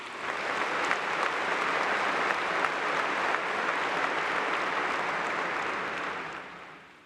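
A graduation audience at Clemson University applauds, a broad, even roar of many hands clapping at once that holds steady for several seconds before fading out.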